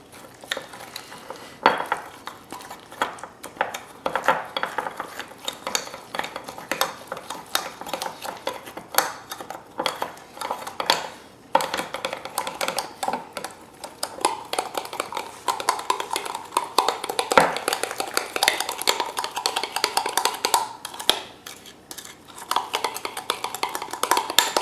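Meatloaf ingredients, including brown sugar, being mixed in a bowl, with irregular wet squelching, scraping and clinking of a utensil against the bowl that runs continuously at moderate volume.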